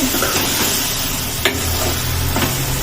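Spoon stirring cooked green chilli paste in a cooking pan, soft scraping strokes over a low sizzle, with a few sharper clinks against the pan.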